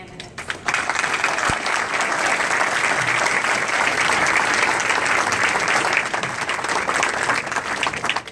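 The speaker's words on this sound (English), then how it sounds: "please join me in a final round of applause for our candidates" A large audience at the Carlson Center in Fairbanks breaks into loud, sustained applause for the governor debate candidates, a dense, even roar of clapping that starts abruptly and holds steady to the end.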